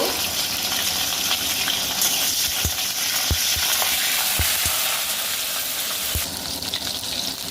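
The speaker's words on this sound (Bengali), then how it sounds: "উচ্ছেগুলোকে লাল লাল করে ভাজা ভাজা করে নেব" Bitter gourd slices fry in hot oil with a loud, close, steady sizzle, punctuated by several sharp knocks of a utensil stirring the pan.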